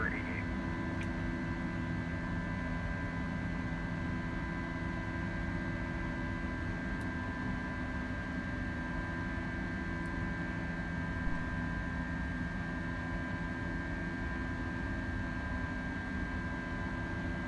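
Steady, even drone of FSLabs A321 engines during takeoff in the Prepar3D flight simulator game, a constant hum with a faint tonal whine running without pause.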